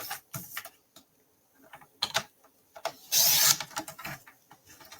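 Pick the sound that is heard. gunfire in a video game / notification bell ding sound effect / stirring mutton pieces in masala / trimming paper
trimming paper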